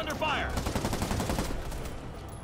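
Machine-gun fire in the Spider-Man video game during a police shootout, a dense rapid rattle of shots with a brief voice near the start.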